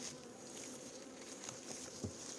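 Honeybees hum steadily inside a swarm trap, a continuous low buzzing drone with no voices, close and even throughout.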